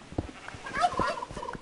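Turkey in Minecraft giving a short burst of rapid gobbling, several quick warbling calls close by and clear, with no talk over them.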